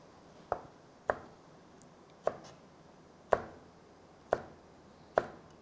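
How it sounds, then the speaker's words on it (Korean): Six sharp knife chops on a cutting board cutting green onion into 2 cm pieces, spaced about a second apart, each a crisp thud in a quiet room. "대파는 오늘은 어썰기 하지 않고 그냥 먹기 좋게 2cm 정도로 토막내 주겠습니다"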